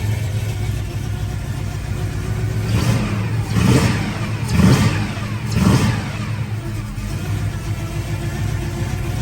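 A 1971 Chevrolet Chevelle SS with a rebuilt engine and new transmission idles with a steady rumble, then revs three times in quick succession before settling back to idle.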